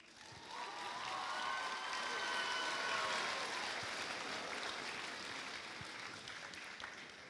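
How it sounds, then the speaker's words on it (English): An audience in a performance hall applauds in a sustained wash of clapping, heard faintly and at a distance, with a brief whistle or cheer early on. "Let's give another round of applause"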